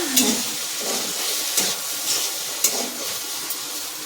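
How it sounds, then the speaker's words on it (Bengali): Potatoes frying on a gas stove hiss and sizzle softly and steadily, with a few faint clinks and bursts rising over the continuous crackle, fairly close and moderate in level. "নিচে গ্যাসে রুটি বানাচ্ছি আর আলু ভাজাটা হচ্ছে"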